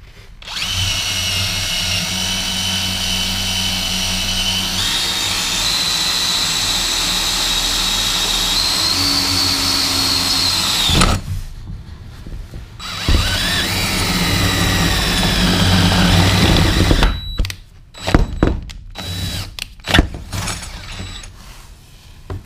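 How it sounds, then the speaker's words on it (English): An electric drill bores straight through a floor to install a CargoSmart covered 5000 lb anchor point, whining loud and steady for about ten seconds, then restarting for a second run before stopping in short bursts. "Now I can go ahead and drill my hole straight through."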